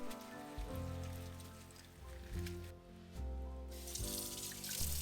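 Tap water rinsing food in a sink while preparing Hong Kong style curry fishballs: a quiet, steady splashing stream broken by brief shifts as the food is moved under the flow, with no talk.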